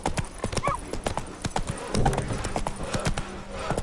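Hooves of Roach, a horse in The Witcher game, clip-clop in a steady trotting rhythm close by, with a brief whinny early on and a voice talking over the hoofbeats.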